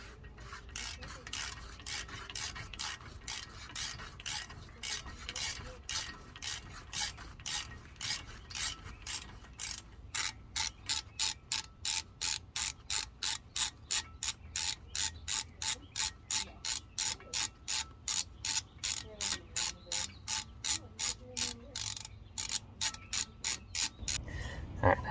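A ratchet backs out a brake bolt on a 2015 Ford truck during front brake work: a long run of crisp, close clicks that settles into quicker, evenly spaced strokes after the first stretch.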